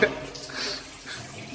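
A stream of urine splashing into water inside a tunnel, a steady trickling gush with faint echo, running briefly under background voices.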